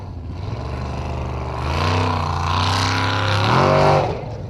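A loud offroad race car engine roars and climbs in pitch, revving harder toward the end with nitro boost before easing off, heard close up without voices, at a Formula Offroad event in Akureyri, Iceland.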